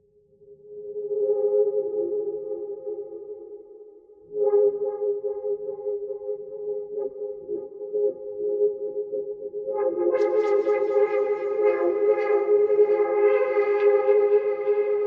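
A synthesizer tone has its filter cutoff modulated by a random LFO, a sustained pitched note that wobbles irregularly in brightness, pausing briefly before returning and growing fuller and brighter toward the end.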